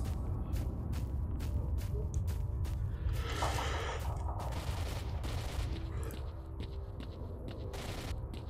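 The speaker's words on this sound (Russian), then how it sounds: "Да, в меня стрелял, это военный." A military soldier fires on the player in S.T.A.L.K.E.R.: Shadow of Chernobyl, with sharp repeated gunshots cracking steadily over a constant low rumble, loud and close.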